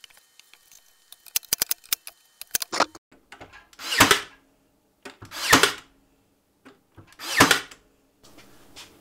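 A nail gun drives nails into shelf boards for a garage soda storage rack, firing three loud, separate sharp bursts after a stretch of faint tapping and clicking handling noises.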